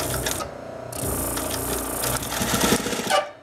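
An industrial sewing machine's clutch motor engages, its discs closing in and catching, then runs with a steady mechanical whir and rattle that builds slightly before cutting off near the end.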